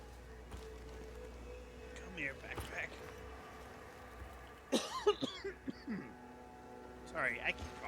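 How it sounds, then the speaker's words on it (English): A character in the video game The Invincible coughs several times in short rough bursts under a steady low ambient hum, with brief throat noises between the coughs. "Sorry, I keep coughing."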